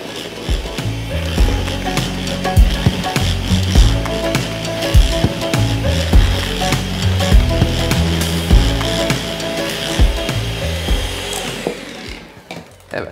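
An electric hand mixer whirs steadily through cake batter, its beaters knocking and scraping against the bowl in an uneven rhythm, loud and close until it winds down at the end.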